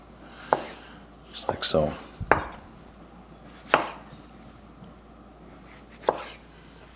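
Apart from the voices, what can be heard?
knife chopping tomatoes on a board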